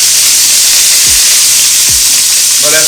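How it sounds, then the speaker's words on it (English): Spare ribs for Chinese barbecue brown in a hot pan with a loud, constant sizzle and hiss close by, broken now and then by a brief scrape as the meat is moved. "I love the sizzle, by the way."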